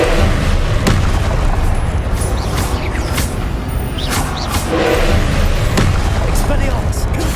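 Confringo blasting spell explosions in the Hogwarts Legacy video game on PlayStation 5, several loud booming blasts and whooshing bursts in quick succession over a continuous rumbling combat din, with a voice speaking over it.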